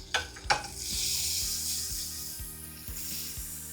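Butter and oil sizzle in a very hot pan while a utensil stirs and scrapes in a steady rhythm, a bright, close frying hiss running throughout.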